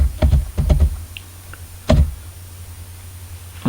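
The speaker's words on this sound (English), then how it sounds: "So here we need to type sheet" A few keystrokes on a computer keyboard while entering an Excel VBA formula, one quick cluster of loud taps followed by a single isolated tap, then quiet.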